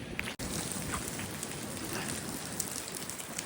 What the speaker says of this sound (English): It's really windy now, and it's raining like.